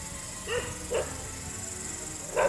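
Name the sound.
dogs barking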